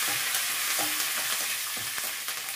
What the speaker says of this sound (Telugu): కలిపేసేసుకుందాము